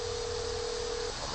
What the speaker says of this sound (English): I mean, you're using the phone now, Miss Scott.